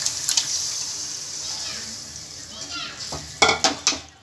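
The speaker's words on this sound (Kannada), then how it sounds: "ಸಣ್ಣದಾಗ ಹಚ್ಚಿಕೊಂಡಿರೋ ಬ್ಲೆಡ್ ಹಾಕ್ಕೊಳ್ಳೋಣ." Finely chopped blood goes into frying onions for a village-style blood palya, a soft sizzle and hiss under stirring, with several sharp scraping clatters of a spoon against the pan near the end.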